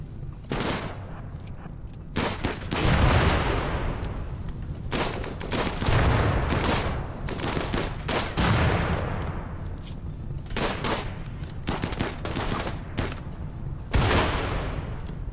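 Friendly-fire gunfire during a RimWorld colony fight: scattered bursts of shots, some close and sharp, others softer, repeating irregularly over a steady low rumble, with no voices over them.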